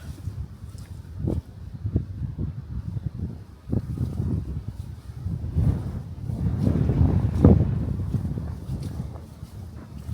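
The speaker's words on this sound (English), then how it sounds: "Windy down here." Gusty wind buffeting the microphone in an old quarry used as a cemetery, rising and falling in low rumbling bursts with faint background noise and no speech.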